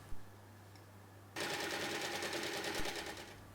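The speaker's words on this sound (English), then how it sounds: "sew along the sides" A home sewing machine stitches the side seams of a reversible cotton tote bag, a steady rapid whirring that starts abruptly after a quiet pause and runs close and loud to the end, with no talk.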